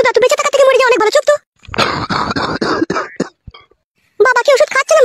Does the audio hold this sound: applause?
no